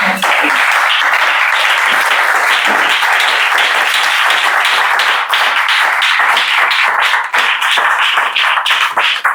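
A church congregation at a seminar gathering claps and applauds loudly and continuously, a dense roar of many hands with scattered sharper claps close by.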